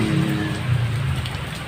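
Steady rain falls on a rainy morning, an even hiss of drops on surfaces with no voices.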